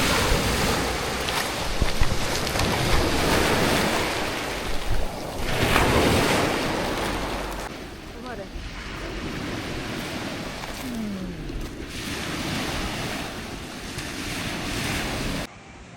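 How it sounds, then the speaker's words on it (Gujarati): Sea waves wash onto a beach in Wales, a continuous broad surge with swelling breakers and heavy wind buffeting the microphone. "આ પાણી ખાલી મોજું જોવો ભાઈ"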